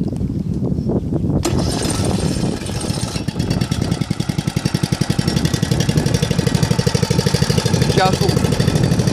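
A floating fire pump engine cranks over and catches, then settles into a steady, loud, rhythmic idle with a regular knocking pulse, heard close and alone.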